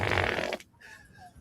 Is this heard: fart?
yes